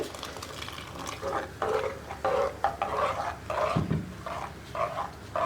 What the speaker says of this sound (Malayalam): മോര് ചേർക്കുമ്പോൾ ഇളക്കിക്കൊണ്ടിരിക്കണം